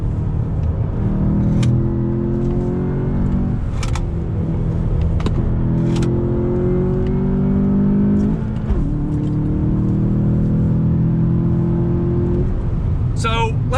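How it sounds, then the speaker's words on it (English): A 2020 VW Jetta GLI engine revs steadily under load, its pitch climbing and then dipping at several points as heel-toe downshifts blip the throttle, with a loud, continuous rumble throughout. "Heel toe downshift."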